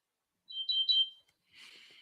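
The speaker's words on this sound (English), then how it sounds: "There goes my alarm again." A type 2 diabetic's monitoring device sounds its alarm, a few clear, bright electronic beeps in quick succession followed by a short buzzy burst, moderately loud and close, with no talk over it.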